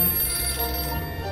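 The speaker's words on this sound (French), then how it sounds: "Il y a le téléphone qui sonne." A telephone rings inside a video game, a continuous ringing tone layered over game music and ambience for the whole short stretch, fairly loud with no talk.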